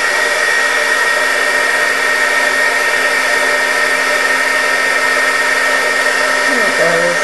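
A heat gun blows steadily and loudly as it melts embossing powder on small jewelry findings, a constant whooshing roar with a faint shift in tone near the end.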